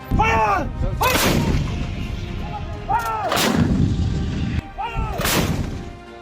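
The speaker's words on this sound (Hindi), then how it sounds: "पिनाका की तरह ही ओबिस्तर तोप से महाजन फायरिंग रेंज में दनादन गोले दागे जा रहे हैं।" American-made 155 mm ultralight howitzer guns firing shells at the Mahajan field firing range in the Indian desert during an India-US military exercise; three loud, deep booms roughly two seconds apart, each followed by a rumbling tail.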